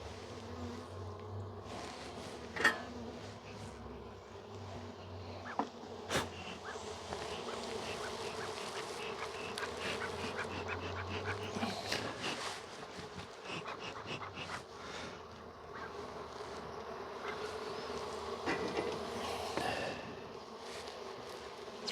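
Honeybees buzz steadily around open hive frames holding brood and bee bread, a continuous close swarm drone with occasional louder passes and light knocks.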